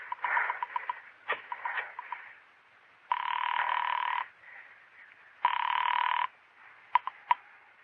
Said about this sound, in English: Pick up the phone, dial a number.